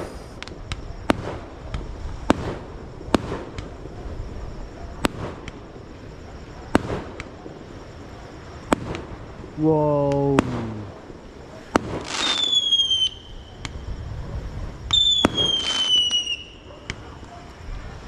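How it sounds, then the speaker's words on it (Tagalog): Fireworks bang repeatedly at irregular intervals, some sharp cracks and a couple of whistling rockets rising, over steady outdoor noise; a voice briefly exclaims. "Fireworks."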